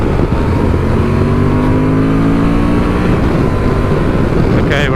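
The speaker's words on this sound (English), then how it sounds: "This bike, it creeps up on you, the speed on this bike." A 2024 Honda Transalp 750 motorcycle being ridden on a bumpy road, its engine loud and close with rising revs under heavy wind rush throughout.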